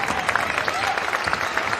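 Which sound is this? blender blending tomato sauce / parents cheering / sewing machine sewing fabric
parents cheering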